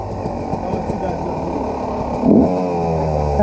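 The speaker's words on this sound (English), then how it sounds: "You want to rev it up?" A two-stroke quad engine in a riverside setting in Haiti idles roughly and then revs up sharply near the microphone, its buzzing note rising and holding as a person talks over it.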